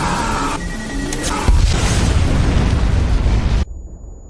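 A car bomb goes off in the action film Retribution (2023), a loud, sustained roaring blast with a rumbling low-end swell that cuts off abruptly into quieter ambience.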